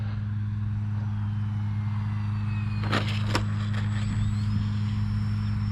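Vmar Vstick RC high-wing plane flying, its engine drone steady and fairly distant over a constant low hum, with a couple of brief louder passes midway.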